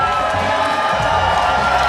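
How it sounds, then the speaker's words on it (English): Crowd at a Muay Thai fight cheering in a steady, dense roar that holds loud throughout, with faint voices mixed into the din. "Brian getting the crowd hyped."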